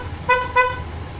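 Two quick, loud honks from a vehicle horn, close by, in rapid succession.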